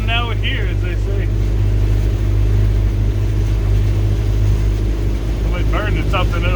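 Caravelle 1750 boat's engine running rough and sputtering on its first splash, a loud continuous low drone with uneven spitting, while people talk over it.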